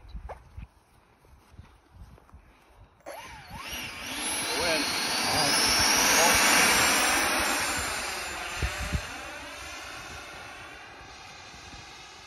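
A foam board RC jet with a 64mm electric ducted fan flies past on its maiden flight in a light breeze, its whine rising from silence to a loud sweep overhead and then fading into the distance, with faint talk at the start.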